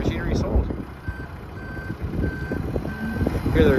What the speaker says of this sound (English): Hear the reverse alarm going.